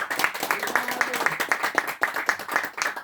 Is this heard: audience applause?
yes